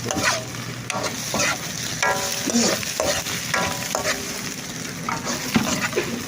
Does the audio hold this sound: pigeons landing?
no